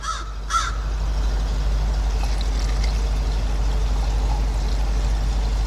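Antifreeze pouring through a small funnel into the coolant bottle of a Lincoln LS, a steady, fairly loud stream that runs unbroken after a brief start.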